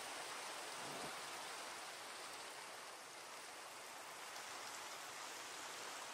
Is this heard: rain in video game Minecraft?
yes